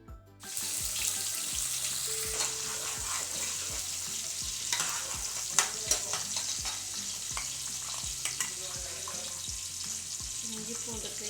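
Onions stirred and frying in oil in a pan with bay leaf, cinnamon, stone flower, cardamom, cloves and star anise for paneer biryani, a steady close sizzle with repeated scraping ladle strokes, no talk.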